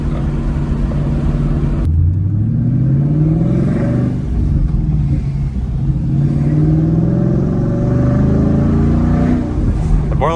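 A Ford Mustang with a Borla catback exhaust revs from inside the cabin, an abrupt throttle blip followed by deep, rumbling rises and falls in engine pitch, loud and close throughout.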